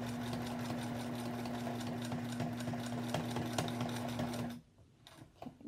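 A sewing machine stitches quilt rows together with a close, steady, rapid hum for about four and a half seconds, then stops, leaving faint handling clicks.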